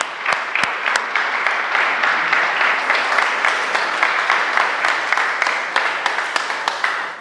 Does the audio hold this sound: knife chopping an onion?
no